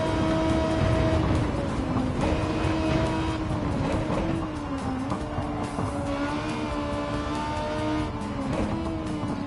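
A Honda Civic R EK touring car in Gran Turismo 7 drones loud and close, its engine note climbing and dropping through gear changes with a brief tire squeal, continuous and without talk.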